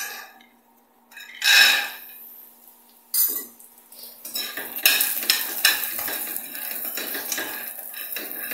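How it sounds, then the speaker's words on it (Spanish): Raw peanuts hit a pan for frying to make salsa macha, with a bright metallic clatter and stirring scrapes, followed by a dense crackling sizzle that builds and holds steady, close up, without voices. "ahorita voy a empezar a freír los cacahuates"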